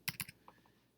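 A few quick keyboard keystrokes, two sharp clicks followed by softer taps, close and alone in a quiet room.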